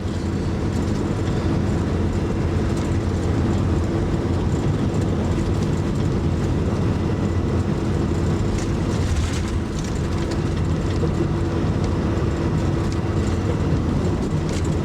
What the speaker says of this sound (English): and there is a train coming too.